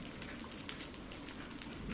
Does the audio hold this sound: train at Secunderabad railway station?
no